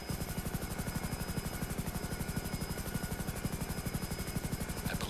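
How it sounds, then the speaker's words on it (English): Attack helicopter in a flight video game, with a steady rapid rotor chop pulsing evenly throughout at moderate level, no voices over it. "This is the newest chopper. Very lethal attack chopper."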